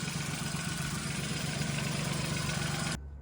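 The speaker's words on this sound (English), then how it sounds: "engine turns over." A Volkswagen Fox engine idles steadily after a spark plug replacement, a smooth even hum held for about three seconds before cutting off abruptly.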